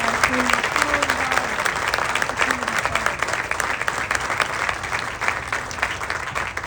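Loud, sustained audience applause fills a groundbreaking ceremony for a university-linked center, with a speaking voice and crowd noise mixed into the steady clapping throughout.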